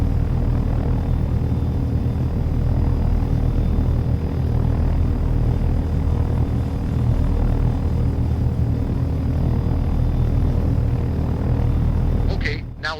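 A helicopter in forward flight in a flight simulator game, a steady, loud rotor and engine drone with a low rumbling hum that holds constant before cutting off abruptly at the end.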